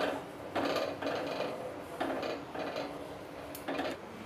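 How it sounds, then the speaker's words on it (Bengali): A spoon works custard powder loose in a bowl, giving several short scraping, clinking bursts in an uneven rhythm, fairly quiet and close, with no voice. "বাটির নিচে কাস্টার্ড পাউডার জমে গেছে, তাই চামচ দিয়ে নেড়ে নেড়ে এটা দিয়ে দিচ্ছি।"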